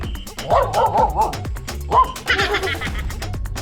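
A dog yips and barks in short bursts, with a few whimpering calls mixed in, close by over road noise during an uphill bike ride while someone talks nearby.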